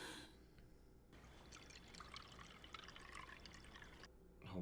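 Sake poured into a cup: a quiet, steady trickle of liquid that runs for about three seconds and then stops, alone and fairly faint.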